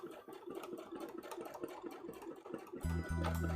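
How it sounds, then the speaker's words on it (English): A sewing machine runs with its bobbin turning while thread-heavy cosplay sewing is under way, giving a quiet, steady mechanical whir with rapid ticking and a brief tonal hum near the end. "I can hear my bobbin."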